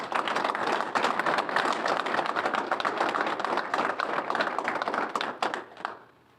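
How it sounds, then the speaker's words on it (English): Audience applause at a Police Officer of the Year ceremony honoring fallen officers, a steady dense clatter of many hands that holds evenly, then quickly fades out at the end. "Let's give them all a round of applause."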